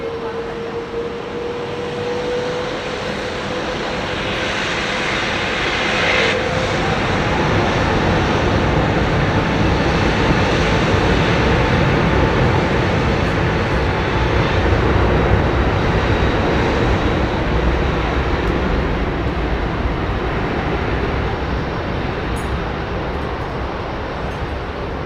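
Ethiopian Airlines Airbus A350 taking off at London Heathrow, a sustained engine roar that swells gradually to a peak mid-way and slowly fades, with a faint whine early on.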